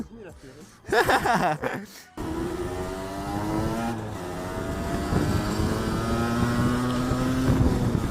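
A motorcycle rides along the road during a break-in tourist ride, its engine note droning and slowly rising in pitch under steady wind rush, after a brief burst of voices at the start.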